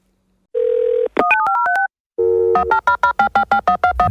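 A steady telephone dial tone sounds, followed by a quick run of keypad tones, another tone, then a series of short rhythmic beeps, all loud and clean with no voices.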